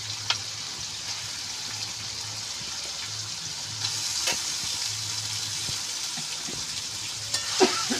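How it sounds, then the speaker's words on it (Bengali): Goat meat sizzles steadily in a spice masala close by, with scraping stir strokes and a few sharper spits and pops over a continuous frying hiss. "আমি এবার মশলার সঙ্গে মাংস দিয়ে দিলাম"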